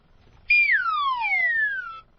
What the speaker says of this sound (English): A wacky whistle.